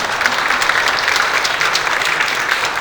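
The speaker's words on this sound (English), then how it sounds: "Round of applause for our great panel." A business-summit audience claps for a guest panel, producing dense, even applause that holds steady and loud for a few seconds with no voices over it.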